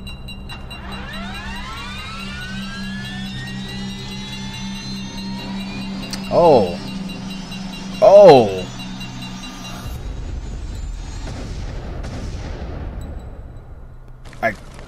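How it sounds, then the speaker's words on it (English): Plane crash in a Weeping Angel horror video game: a rising whine of engines, two sharp descending impact bursts, then a heavy rumbling crash that fades into a low ambient hum. "I take it your plane crashed."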